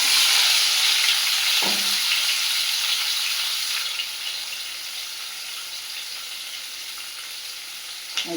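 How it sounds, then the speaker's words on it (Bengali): Potatoes and onions fry in a hot pan with a loud, continuous sizzle that eases slightly midway, with a couple of brief utensil clinks near the start and end. "তাই চলে এলাম আলু পেঁয়াজ ভাজতে রান্নাঘরে"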